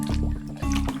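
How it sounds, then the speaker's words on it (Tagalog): Water trickling and splashing on a farm, a close, steady liquid pour with a brief break midway, busy low-end flow throughout. "So guys, ayan. Tubig."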